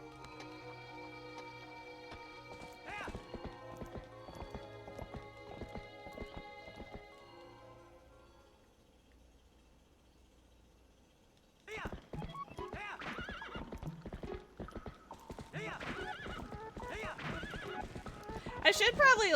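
In the Twilight Princess video game, a called horse gallops with rapid, rhythmic hoofbeats and whinnies, with a gap of near silence before the galloping returns louder.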